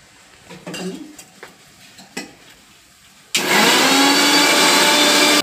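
Kitchen blender grinding roasted tomato and coriander leaves into a paste, starting abruptly after a few light clinks and taps, then a loud steady whirring motor drone until the end.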